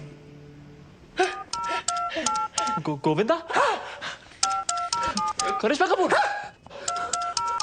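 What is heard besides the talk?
telephone dialing tones calling doctor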